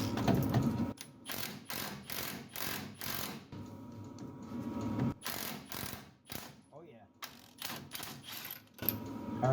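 An impact gun hammers at bolts on a Chevy Colorado, loud rattling bursts of a second or so each, repeated with short pauses, close by and rough.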